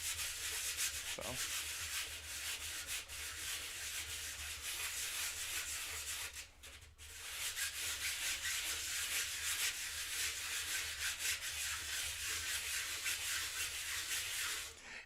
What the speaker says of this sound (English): when I'm sanding, is it like picking it up pretty heavily?